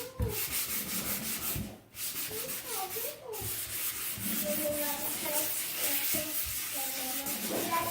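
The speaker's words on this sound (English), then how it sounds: "There's no particular way to sand it." A wooden cutting board is sanded by hand, producing steady rasping strokes in a continuous scratchy rhythm, close and fairly soft, with a brief gap partway through.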